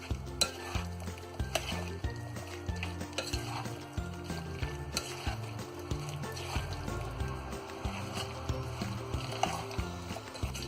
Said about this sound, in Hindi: सारी चीजों को हम अच्छी तरह मिक्स कर लेंगे।